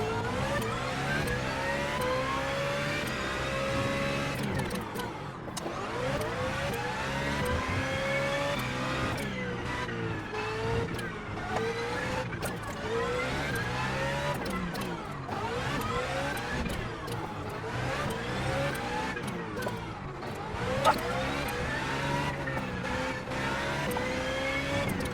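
A sim racing video game race car engine revs and shifts through a practice lap, with repeated rising whines, drops at gear changes and steady high-revving drone throughout, close and loud with no talking.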